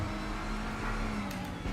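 A DTM race car in the RaceRoom racing game, a raspy engine drone with a steady sequential gearbox whine underneath, fairly quiet and continuous.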